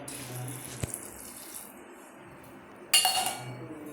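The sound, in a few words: washing under running tap water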